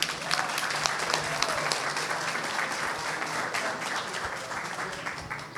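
A crowd applauds at an evening science talk in Manta, a dense, even clatter of many hands clapping steadily throughout with no voices above it.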